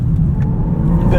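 A 2024 Genesis G70 AWD 3.3T Sport Prestige pulls hard in second gear, its engine a loud, steady, close-up rumble filling the cabin for a brief moment with no talking.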